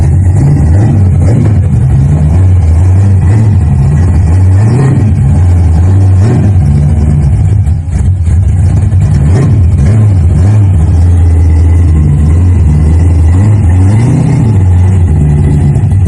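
A 1970 Chevelle with a 454 LS5 V8 and four-speed rumbles loudly and close by, revving in repeated deep swells over a heavy, steady idle.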